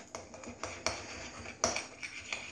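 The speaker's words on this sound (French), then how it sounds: "Faut mélanger vite." Homemade slime is mixed quickly in a bowl, with a run of sharp utensil taps and clinks against the bowl at an uneven, hurried rhythm, close and fairly faint.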